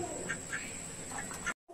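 A duck that had been bitten quacks a few times nearby in a village setting, short nasal calls over a quiet background, ending in a brief silence.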